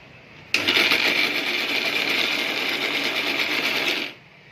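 A mixer grinder motor whirs up abruptly into a loud, steady, buzzing grind, runs for a few seconds, then stops.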